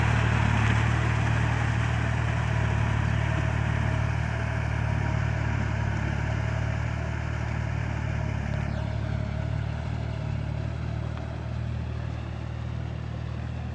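A Kubota L4018 medium farm tractor's diesel engine runs steadily throughout, a loud continuous low rumble with mechanical clatter and no speech.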